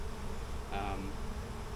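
Honey bees buzz around a chaotic, disturbed hive with burr comb everywhere, a faint, steady drone with a brief brighter swell of buzzing near the middle.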